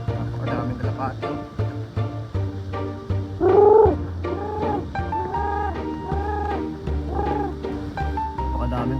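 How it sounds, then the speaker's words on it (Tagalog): Many pigeons coo and warble together near a street with a basketball game, soft throaty calls layered under someone talking throughout. "Napakadaming kalapati mga kabs, oh."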